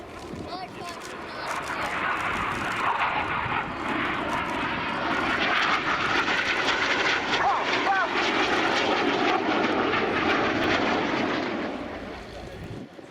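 Red Arrows display jets fly a rolling formation manoeuvre at an air show, their engine roar rising and holding loud for several seconds before easing away, with a commentator talking over it.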